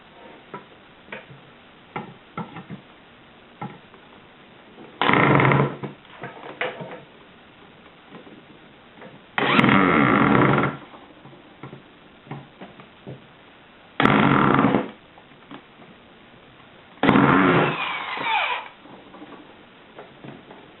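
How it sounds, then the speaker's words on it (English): Power drill whirring in four separate bursts, each lasting about one to one and a half seconds, while assembling a homemade screen press, with small clicks and handling noises between the runs. "Now, I'll take my drill"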